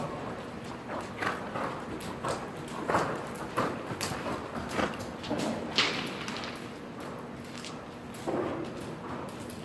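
Horse hooves clip-clop irregularly during a riding lesson, fairly faint and distant, with scattered soft thuds and a low background hum.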